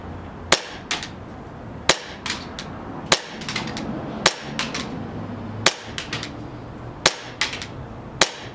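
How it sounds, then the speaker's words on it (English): An airsoft gas blowback pistol, a TM/WE Glock 17 or Hi-Capa fitted with a new Maple Leaf hop-up, fires about seven sharp, loud shots outdoors toward a fence. Each crack is followed by quick mechanical clacks and short echoes, at uneven intervals. "I'm gonna shoot to the left and at the fence."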